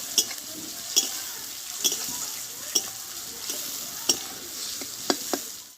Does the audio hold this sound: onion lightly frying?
yes